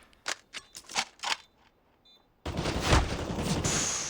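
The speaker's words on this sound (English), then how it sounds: "Shots landing in through the smoke." Gunfire in CS:GO during a professional Astralis versus Fnatic match on the Train map: a burst of sharp separate shots comes first, then a loud, dense stretch of continuous firing.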